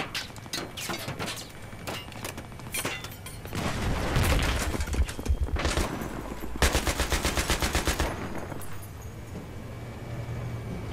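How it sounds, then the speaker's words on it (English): Battlefield 3 single-player town combat: rapid automatic gunfire in dense bursts with sharp individual shots, loud and close, plus rumbling impacts from ongoing shooting, no talk. "we got some people shooting at us with the bazookas"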